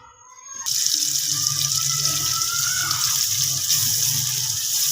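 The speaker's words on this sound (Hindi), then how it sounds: "घी ऐड करेंगे और प्याज को फ्राई कर लेंगे।" Onions frying in hot ghee for a chicken qorma make a steady, loud sizzle that starts abruptly after a brief quiet moment and holds evenly throughout, with no talking.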